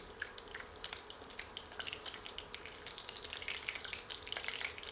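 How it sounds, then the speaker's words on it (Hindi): Whole dry spices frying in leftover oil for a chicken curry, with a faint, steady sizzle and scattered crackling pops throughout. "अब बचे हुए तेल में थोड़े सूखे साबुत मसाले डालकर इन्हें कुछ क्षण भून लेते हैं"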